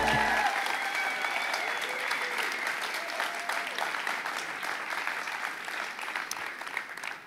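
An audience applauds warmly as a rabbi is welcomed onto the stage at a Sunday church service in Munich. The clapping is dense and sustained and holds steady for the whole stretch, with no talk over it.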